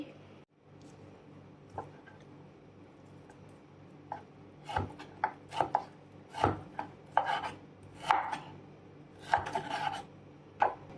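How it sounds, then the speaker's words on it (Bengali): A knife chops mushrooms and potatoes on a cutting board: sparse taps early on, then sharp, close, irregular strikes coming quickly through the second half. "সো আমার কাটাকুটি শেষ।"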